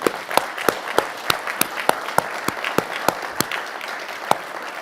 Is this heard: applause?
yes